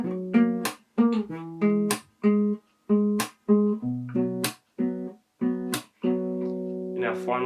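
Fingerstyle acoustic guitar picks through the four chords of a song, one plucked note at a time in a steady rhythm of about ten distinct attacks, each ringing briefly before the next, played close and alone.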